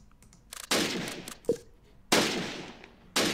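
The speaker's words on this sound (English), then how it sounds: "Nice, our men are in a firefight right now." Gunfire in a WWII strategy game battle near Caen: several loud close bursts of rapid shots, each decaying before the next, with quieter pops between them.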